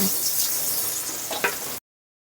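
Onion goes into hot oil for sautéing mung bean stew, giving a steady bright sizzle with a brief stir-scrape near the end before it cuts to silence.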